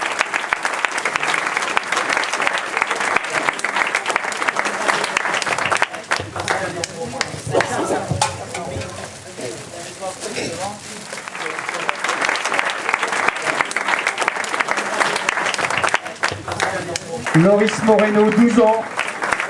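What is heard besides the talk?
audience applauding prize winners at award ceremony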